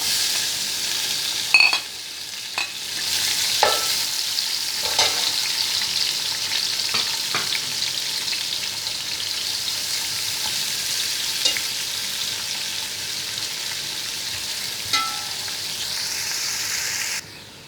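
Onions frying in a pan for biryani, a steady close sizzle with scattered clinks and scrapes of stirring throughout, no voices.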